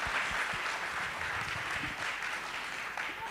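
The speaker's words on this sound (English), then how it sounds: "A big round of applause for her." A large audience at a talk event applauds steadily and evenly, a dense wash of clapping that holds for several seconds with no voices over it.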